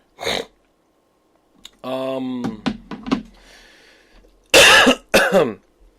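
Several harsh coughs and a throat clear, close and loud, separated by short silences, with a burst of two hard coughs near the end.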